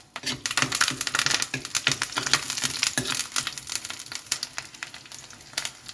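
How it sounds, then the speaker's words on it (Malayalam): Onions and curry leaves frying in hot coconut oil for a Kerala fish curry, a steady close sizzle with dense crackling pops throughout, no talking. "നമുക്ക് ഒരു പിടി ഉള്ളി ഇട്ട് കൊടുക്കാം ഒരു പിടി കരിവേപ്പിലയും ഇട്ട് കൊടുത്ത് നല്ലതുപോലെ വഴറ്റാം"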